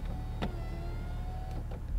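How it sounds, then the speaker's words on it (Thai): Electric roof motor raising the convertible top on a BMW Z4 M40i roadster (G29), a low steady mechanical hum with a few faint clicks and clunks, close and without talking. "ยกหลังคาขึ้น"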